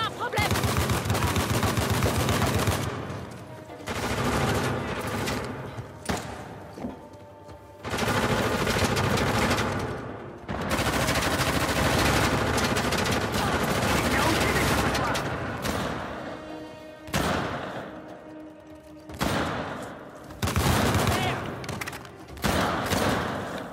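Dense video-game gunfire from a sniper and other weapons in Uncharted: The Lost Legacy, loud rapid bursts and volleys filling most of the stretch with brief gaps, mixed with game voices.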